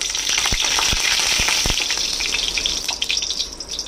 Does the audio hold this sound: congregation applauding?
no